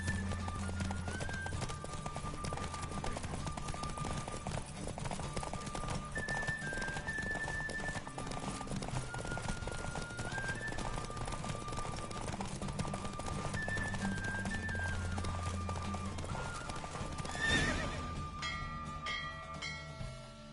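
Steady rhythmic hoofbeats of a galloping horse in the video game The Witcher 3 run throughout, blended with a constant low rumble and soft tonal music.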